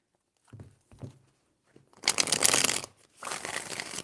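Tarot cards are shuffled by hand: a few soft taps, then two close, crisp riffling bursts, the second slightly shorter, quiet with no voices.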